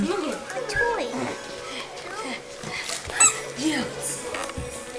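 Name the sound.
puppies playing with a squeaky toy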